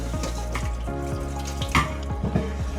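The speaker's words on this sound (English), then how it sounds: "you want to stop that cooking process by throwing some cold water onto them." Cold tap water runs and splashes over cooked lasagna noodles in a kitchen sink, a steady close pouring hiss with a few sharper splashes, no talking.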